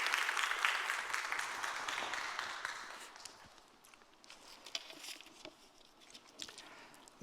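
A church congregation claps to welcome the pastor at a Sunday worship service, a fairly distant patter of applause that is strongest at first and then thins into scattered claps.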